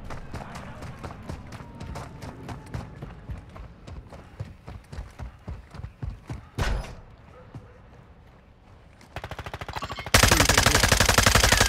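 Rapid bursts of Call of Duty gunfire crack in a steady rhythm, with a heavier blast midway, then quieter shots and a dense, loud final volley of automatic fire.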